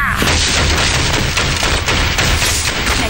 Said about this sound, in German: Eine Waffe? Schieß, Derek!